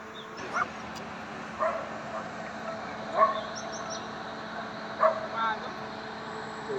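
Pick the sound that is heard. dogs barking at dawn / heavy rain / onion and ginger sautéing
dogs barking at dawn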